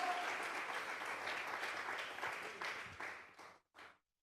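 Church congregation applauding as an offering of praise during a general vigil, a dense sustained round of clapping that tapers off, ending in a few scattered final claps.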